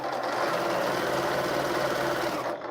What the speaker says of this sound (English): I am just sewing up some scraps